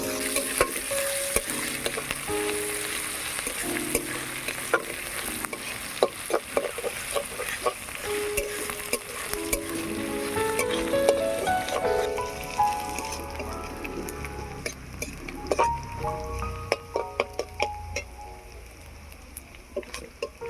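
Ginger, garlic and onion frying in a pan, with a steady close crackling sizzle and frequent clattering stir strokes of a spatula against the metal throughout, no voices.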